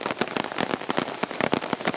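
Heavy wind-driven rain from Hurricane Ian lashes down outdoors, loud and close, arriving in rapid pulsing gusts of spattering drops with no voices.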